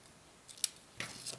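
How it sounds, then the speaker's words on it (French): Scissors snip through paper for a card in two or three quick, crisp cuts, close and faint in a quiet room. "il faut que je coupe tout ça"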